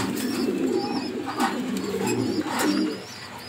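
Racing pigeons held for sale coo in a soft, repeated, overlapping chorus, with a few brighter chirps and wing or handling noises close by.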